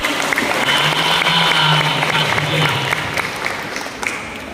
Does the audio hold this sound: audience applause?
yes